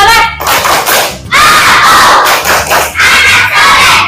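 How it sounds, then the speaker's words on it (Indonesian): Children chant and clap the "Tepuk anak soleh" routine in a classroom, a loud group shout in rhythmic bursts with short pauses between phrases, close and dominant. "Tepuk anak soleh."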